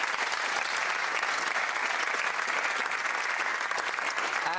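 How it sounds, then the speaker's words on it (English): Studio audience applause on the Countdown game show, a steady, even wash of many hands clapping that continues throughout at moderate level. "give a warm round of applause to Bradley and Sean Delocry"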